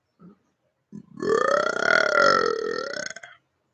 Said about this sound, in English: Burp, burp, burp.